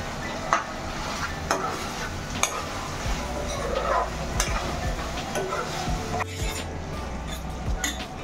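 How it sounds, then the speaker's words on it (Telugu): Ginger garlic paste is stirred in a hot curry pan as it fries, steady sizzling under sharp periodic scrapes and clinks of a spoon against the pan, close and fairly loud. "ఇప్పుడు అల్లం వెల్లుల్లిపాయ పేస్ట్ వేసుకున్నాక ఇలా కలుపుకోండి."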